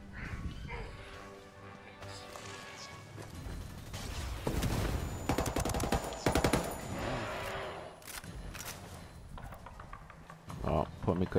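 Gunfire in the shooter Ghost Recon Wildlands: a cluster of sharp automatic bursts rattles through the middle of the clip amid mechanical game clatter, with someone talking over it.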